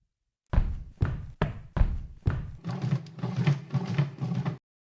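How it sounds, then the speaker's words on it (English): Five loud, separate knocks on wood ring close and clear, followed by a quicker run of muffled, rumbling knocking that trails off. "I heard knocks coming from upstairs, and the knocks were coming from my bedroom"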